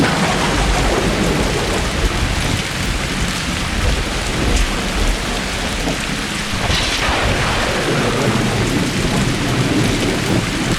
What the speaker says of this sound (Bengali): কিছুক্ষণ হাঁটার পর শুরু হলো ঝুম বৃষ্টি